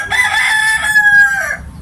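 A single rooster crows one long, loud cock-a-doodle-doo close by, its call holding steady before tapering off near the end, with no voices around it.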